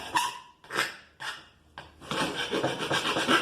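A file rasps off burrs in short separate strokes, four rough scrapes followed by a longer run of rapid back-and-forth rasping, close and clear with no talking.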